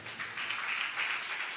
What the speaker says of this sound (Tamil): ஒரு கைத்தட்டி ஒரு அலையில சொல்லுங்க.